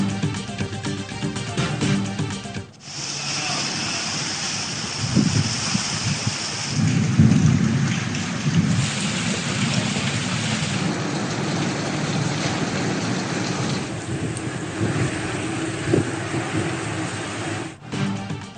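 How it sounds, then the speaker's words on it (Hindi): Heavy pre-monsoon rain pours down in Lahore in the early morning, with thunder rumbling through a steady, dense wash of rain that stays loud and continuous with no voices. "लाहौर में प्री मानसून का जलवा। सुबह सवेरे तेज बारिश"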